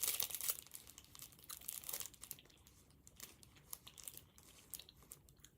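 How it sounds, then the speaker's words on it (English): Paper wrapping on a croissant crinkles and crunches close by in quick, irregular bursts, loudest at first and then trailing into softer rustles, with no talking. "There's paper on this croissant."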